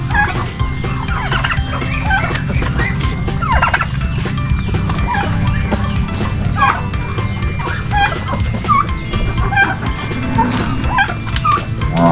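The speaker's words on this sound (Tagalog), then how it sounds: "So, mayroon din pong 3 pabo." Turkeys gobble repeatedly amid a busy flock of chickens, with a dog barking now and then; the poultry noise is steady and close throughout.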